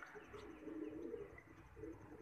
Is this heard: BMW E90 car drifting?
no